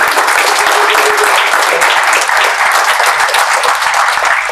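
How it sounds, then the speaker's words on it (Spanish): Loud, sustained applause from a large crowd at a constitutional dialogue event, dense steady clapping filling the whole stretch without pause. "Yo voy a invitar nuevamente a que le demos un aplauso bien sonoro"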